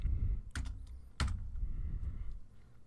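A few quick keystrokes tap on a computer keyboard while typing a command, two sharper clacks standing out over faint clicks and a low background hum, close and quiet.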